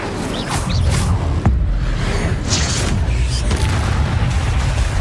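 Incendio fire spell cast in Hogwarts Legacy, a loud whooshing burst with a sharp crack partway through, then rolling booms and swishes of spell effects.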